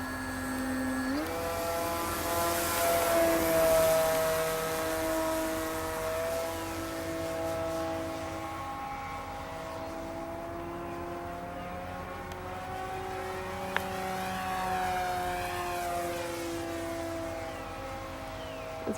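A Durafly Cessna 182 radio-controlled model plane takes off at half throttle, its electric motor giving a steady, buzzing whine that rises and falls in pitch as it climbs and passes, continuous throughout.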